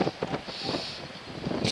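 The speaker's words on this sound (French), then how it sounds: "Désolé pour le vent, mais ici en Bretagne ça souffle" Strong wind buffets the microphone outdoors in Brittany, a continuous rumbling roar with gusty surges throughout and no voices.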